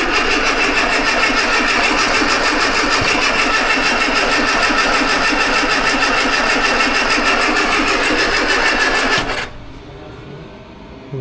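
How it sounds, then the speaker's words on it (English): An Austin Allegro's engine cranks and catches, then runs loud and rough for several seconds before cutting out abruptly into near quiet. "we don't need a throttle cable to fire her up"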